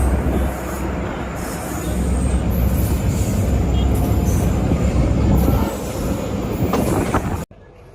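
A train rumbles past close by on a railway line in Bihar, with steady loud wheel and car noise and some squealing, continuing for most of the stretch before cutting off abruptly near the end.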